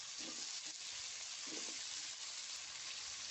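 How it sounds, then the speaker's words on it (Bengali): Spices sizzling in a pan for a taro (kachur mukhi) and pangas fish curry, a steady soft frying hiss with faint stirring scrapes, no talking. "মশলাগুলো ভালো করে কষিয়ে নিব। ভালো করে কষানো হয়ে গেলে দিয়ে দিব আগে থেকে ধুয়ে রাখা কচুরমুখীগুলো।"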